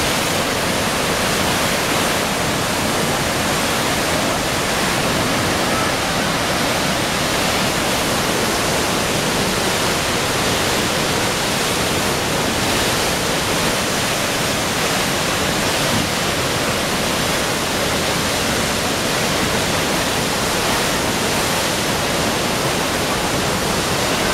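A loud, unbroken roar of water released through the Gavins Point Dam spillway, dense and constant throughout, like a heavy torrent pouring through.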